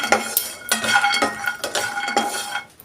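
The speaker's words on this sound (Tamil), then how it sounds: "ஒரு கைப்பிடி அளவுக்கு பாதம் பருப்பு சேர்த்துக்கிறேன் இதையும் ட்ரை ரோஸ்ட் பண்ணிக்கலாம்" Almonds are dry roasted in a pan, giving repeated clinking and scraping as a spoon tosses the nuts against the metal. The clatter is close and busy, comes in uneven strokes, and has no talk over it.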